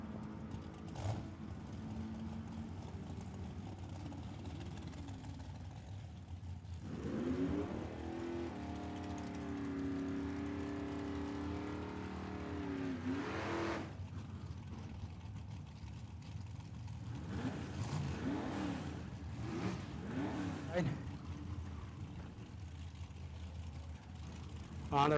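Mustang drag racing at Tucson Dragway, a distant engine roaring up in a sustained run with shifting pitch, followed by more faint engine bursts amid track ambience and a public address voice.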